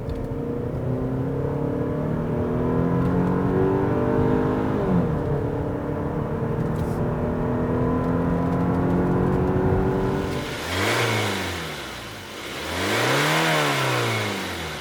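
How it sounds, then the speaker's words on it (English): A 2020 Kia Cadenza accelerates hard in sport drive mode, its engine note rising steadily and loudly from inside the cabin, then dipping and surging again through gear changes. "let's put the car into sports and drive."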